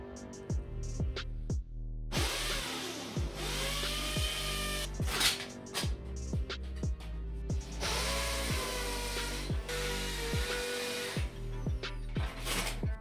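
A power drill bores holes into a wall to mount a bed headboard, with repeated short bursts of loud whining motor pitching up and down, separated by brief pauses, close by and alone without speech.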